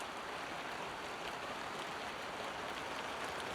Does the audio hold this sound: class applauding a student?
no